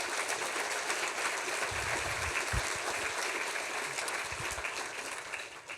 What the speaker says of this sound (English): Can we give them one big round of applause?